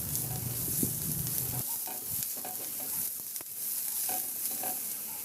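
Ginger and garlic sauté in a pan with a little oil, a close, steady sizzle with small crackles and the occasional clink of stirring.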